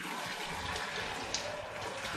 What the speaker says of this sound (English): Last but not least for now is the all-important rinse.